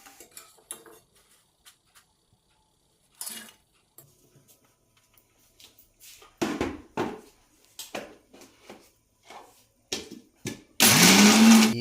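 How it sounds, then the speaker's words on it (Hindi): Electric mixer grinder powdering fried gond and makhana for battisa laddoos: scattered clinks and taps of handling the jar, then short pulses building to a loud continuous whirring roar at the end, close by with no talk. "इसके बाद इसको मिक्सचर में पाउडर होने के लिए मिक्सचर के पॉट में डाल दिया जाता है"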